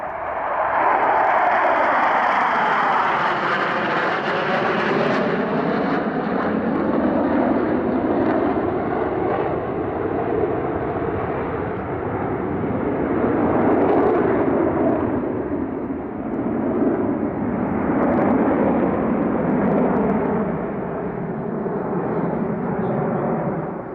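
Korea Aerospace Industries T-50 jets of the Black Eagles display team roar past at an airshow in Australia, a loud, sustained jet rumble that swells and shifts in pitch as the formation passes, with no talking.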